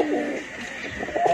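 Pigeons coo close by at a loft where the birds are kept, a short, soft burst of throaty, rolling calls heard on their own without any talk.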